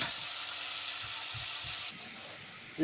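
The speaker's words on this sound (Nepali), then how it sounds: "यसलाई अब पर भुज्दैछौँ हामी।" Ingredients for a Nepali local chicken curry fry in a pan, giving a steady broadband sizzle with soft low clatters; the sizzle eases slightly near the end before a brief louder burst.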